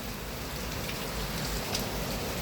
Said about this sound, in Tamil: சூப்பராக இருக்கு மழை